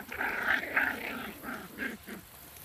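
Miniature schnauzers growl and snarl while play-fighting, a series of close rumbling growls in uneven bursts with brief pauses between them.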